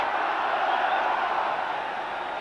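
A capacity crowd of 48,000 buzzes steadily before an Old Firm football match between Celtic and Rangers, with a dense, continuous murmur of many voices filling the ground at an even level throughout.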